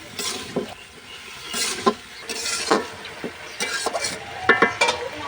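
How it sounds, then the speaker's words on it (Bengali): Potatoes with salt being stirred in a pot over a clay stove, a steady scraping and clinking of utensil against the pot with a soft sizzle underneath, recurring in short strokes at close range. "এবার আমি এর মধ্যে আলুগুলো দিয়ে দিচ্ছি পরিমাণ মতো লবণ দিয়ে একটু নেড়ে চেড়ে নিচ্ছি"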